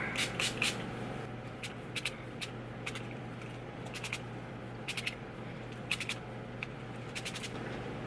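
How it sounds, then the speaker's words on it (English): Short bursts of an aerosol hair product spray hiss in quick clusters as it is sprayed into hair, several puffs at a time, faint against a low background hum. "I'm going to just spray it in my hair."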